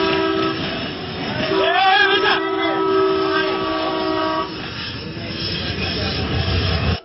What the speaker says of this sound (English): Just when it seems like the worst is over, another train fast approaches. It lays on the horn